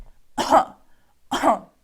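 A person gives two deliberate demonstration coughs, each a short, sharp burst about a second apart, close and clear against a quiet room.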